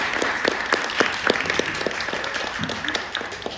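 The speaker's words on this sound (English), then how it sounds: "So I think a huge round of applause to both of you." An audience at an Odia community celebration in Finland applauds the performers with a lively burst of clapping. Individual claps stand out crisply from the crowd, and the applause eases off toward the end.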